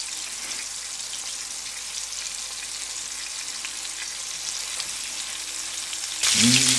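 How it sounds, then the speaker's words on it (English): Spanish meatballs (albóndigas) sizzle and crackle steadily in a pan over medium heat. The frying is constant and close, and a brief louder burst of stirring or bubbling comes right at the end. "I'm going to fry all of them on medium heat until they almost done internally, cooked all the way through."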